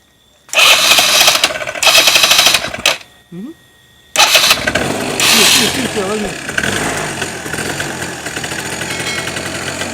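A moped with a fault that makes it lose electrical power starts with a loud burst, revs for a couple of seconds and cuts out. It then fires again and settles into a steady, close idle while people talk nearby.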